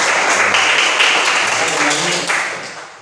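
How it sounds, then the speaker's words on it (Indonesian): A classroom of students claps together for a classmate who has just read aloud in an Indonesian school lesson, a dense, steady applause that fades slightly toward the end. "Ya, tepuk tangan."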